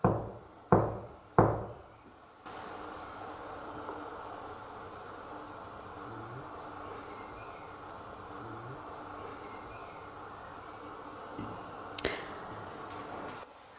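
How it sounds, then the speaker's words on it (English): Three loud, sharp knocks strike a door in a reputedly haunted school at night, evenly spaced over the first two seconds, followed by a long hiss of quiet room tone with a faint tap near the end. "Can you knock back on that door?"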